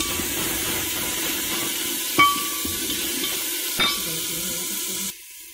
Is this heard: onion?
yes